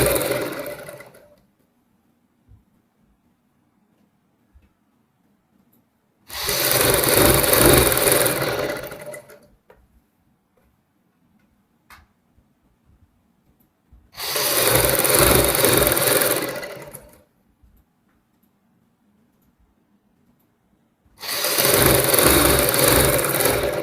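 Domestic sewing machine stitching a long fabric strip for a girl's top, running in three steady bursts of a few seconds each, separated by quiet pauses, close and fairly loud with no talking.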